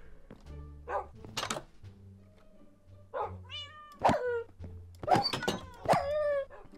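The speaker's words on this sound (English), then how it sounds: "No actual way that these dogs are still here." Tamed wolves in Minecraft give a series of short whines and yelps in separate bursts, spaced over several seconds, with thuds and low game tones between them.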